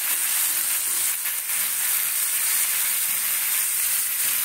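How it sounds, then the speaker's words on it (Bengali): A paste of ginger, garlic and green chili sizzles and hisses loudly in a hot pan while prawn malai curry is being made, a constant bright frying crackle with no voices. "আদা রসুন কাঁচা লঙ্কা যে পেস্টটা করে রেখেছি এটাই দেবো"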